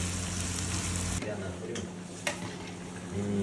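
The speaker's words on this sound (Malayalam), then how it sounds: "അപ്പൊ നമ്മൾ ഉള്ളി പൊരിക്കണ്" Onions fry in a pan for a biryani, with a loud steady sizzle that drops off partway through, followed by quieter hissing and a couple of utensil taps.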